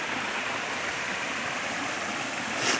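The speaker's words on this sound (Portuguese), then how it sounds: "uma cachoeira aqui no meio de um vale" A waterfall in a valley near Jardim Suburbano, Itapevi, pours in a steady, dense broadband rush of falling water, close and continuous throughout with no voices.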